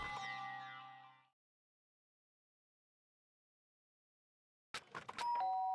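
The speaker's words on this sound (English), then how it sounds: "Ding dong." Two-tone doorbell chime in the video game Danganronpa, one ringing tone decaying away, then after a long silence a second burst of chiming, clear and close.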